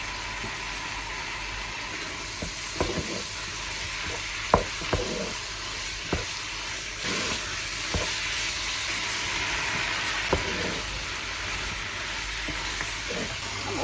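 Mushrooms, marinated chicken and green onions fry in a pan with dark soy sauce, giving a steady broadband sizzle with occasional clicks and scrapes of stirring, close and constant throughout.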